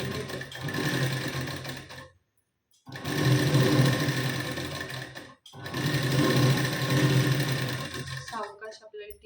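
A sewing machine stitches a strip onto a blouse in two long, loud, steady runs, close up, separated by a short silence, with a brief mechanical rattle as it stops at the end.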